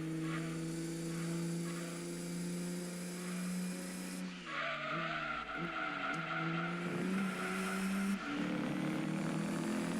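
A GT1 race car in Gran Turismo 2 runs at a steady engine drone, then skids through a corner with squealing, wavering tire noise before the engine note settles back, loud and close, with no voices.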